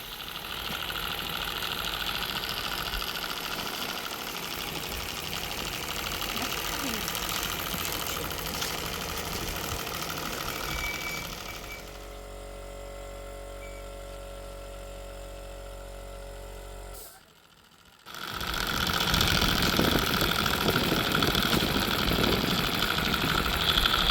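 A small Mamod model steam engine runs steadily with a continuous mechanical hum and chugging, later softening, briefly cutting out, then returning louder.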